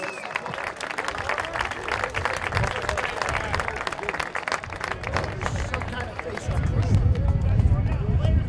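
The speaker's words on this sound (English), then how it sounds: "Let's give them all a nice round of applause" Senior players of a high school boys lacrosse team get a sustained round of applause from crowd in outdoor stands, steady dense clapping with crowd murmur throughout, swelling louder near the end.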